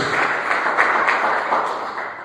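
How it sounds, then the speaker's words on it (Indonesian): A church congregation claps together, a dense, steady wash of many hands at moderate level lasting a couple of seconds without a clear break. "Ini tepuk tangan terbaik buat Tuhan Yesus."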